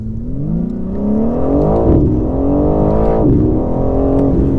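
A 2020 BMW M4 Competition in rear-wheel drive mode accelerates hard toward 60 mph, its engine note loud and close from the cabin and rising steadily in pitch, broken by two quick upshifts.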